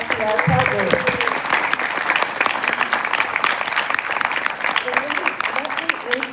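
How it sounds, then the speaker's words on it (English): An audience at a candidate forum for the 2026 Lieutenant Governor race applauds its partners, a steady, dense round of clapping lasting several seconds with a few voices faintly mixed in. "Could you all stand and give a round of applause to our partners?"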